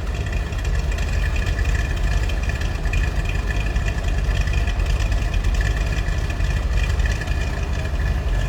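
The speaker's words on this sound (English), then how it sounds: "Slip around to the back so you can hear it run." A 1963 Chevrolet Corvette Split-Window Coupe sits idling, its engine giving a steady, deep, rumbling drone close by with even loudness throughout and no talking.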